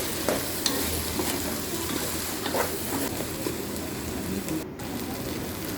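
Steady scraping and stirring of egg bhurji masala in a hot pan with a constant sizzle underneath, continuous and fairly close, no voices.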